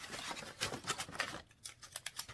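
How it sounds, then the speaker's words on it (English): Scissors snip the corners of a cardboard gift box in a quick series of sharp, crisp cuts, close and fairly quiet, with short gaps between bursts and no voice. "Just going to cut the corners."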